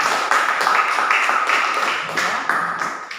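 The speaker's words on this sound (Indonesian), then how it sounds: "tepuk tangan dulu untuk Satria" A small classroom group claps for a student named Satria, a short burst of bright, uneven hand claps in quick irregular rhythm, close and fairly loud.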